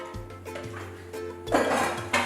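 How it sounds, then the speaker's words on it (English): A spoon knocks and scrapes against the side of a bowl while stirring powder into a mixture, a few quiet, uneven clinks and taps close by. "You gotta stir, stir, stir, stir, stir until you don't see the powder anymore"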